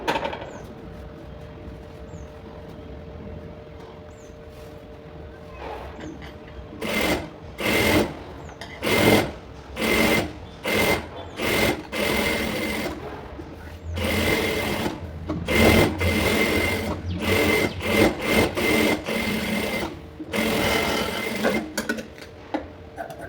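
A sewing machine stitching the sleeve of a lined blouse: a rapid mechanical whirr in a series of short bursts, some quick and choppy, others longer runs, separated by brief pauses, close and clear.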